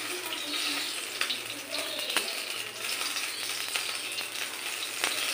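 Ghee frying in a pan while cooking black pepper chicken makes a steady, moderately loud sizzling hiss, broken by a few sharp pops and crackles, with no voices.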